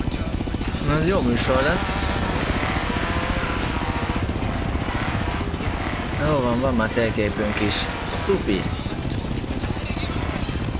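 A military helicopter in the racing game Forza Horizon 3 thrums steadily and loudly for the whole stretch, its rotor chop a continuous pulsing drone under someone speaking Hungarian.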